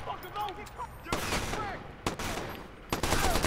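Gunfire and a grenade blast in Watch_Dogs: several sharp, loud bangs and bursts cut through a busy, noisy scene, with a voice exclaiming amid the shots.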